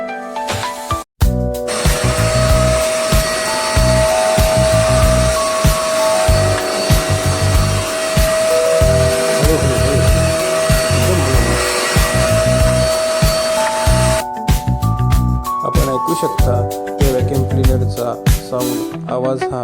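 A Eureka Forbes Super Clean Rev vacuum cleaner runs with a loud, steady whooshing roar and a humming whine, cutting out briefly near the start and breaking up toward the end.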